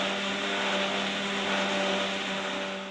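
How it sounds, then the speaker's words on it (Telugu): A mixer grinder whirs loudly and steadily throughout grinding chutney, a dense motor hum with a gritty grinding texture and no voices. "వీటిని మిక్సీ వేసుకోవాలి"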